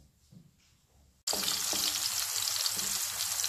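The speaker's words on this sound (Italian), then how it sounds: "Il porro comincia a sfrigolare" Leek dropped into very hot oil in a pan bursts into loud, steady sizzling after a quiet start, the crackle continuing alone to the end.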